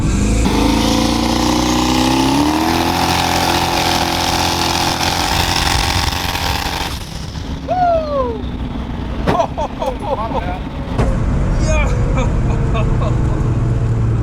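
A 900whp 1998 Pontiac Firebird Trans Am accelerating hard in third gear, a loud rising engine roar that drops off at the shift, then lighter revving and engine rumble.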